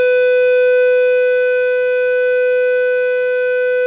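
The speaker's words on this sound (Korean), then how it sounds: "바이어스를 5mA 엄청나게 낮게 주는 거죠. 하모닉 디스토션이 엄청나게 발생합니다." Steady buzzing tone from a tube amplifier biased very low at 5 mA, rich in harmonic distortion, held continuously and loud with a faint pulsing hum underneath.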